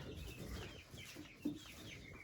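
Chickens clucking and calling in a noisy coop in a Russian village, a mix of low chatter with one sharper squawk standing out midway.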